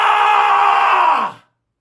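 A person lets out one loud, sustained scream lasting just over a second, steady and strained, then sliding down in pitch as it cuts off into silence.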